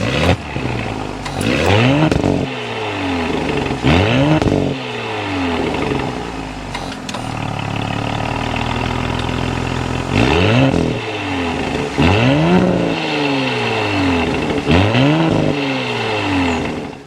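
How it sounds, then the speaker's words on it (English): Loud, close engine revs from a 2024 Audi SQ5 Sportback, repeated rising and falling bursts with a deep exhaust rumble and an idle pause in between. "start up this SQ5 so you can hear that exhaust note"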